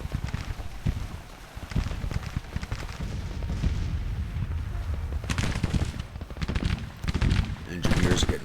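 Musket volleys and scattered rifle fire rattle through a Civil War battle in the strategy game Grand Tactician, with dense crackling bursts and a heavier fusillade toward the end, and a voice speaking beneath the shooting.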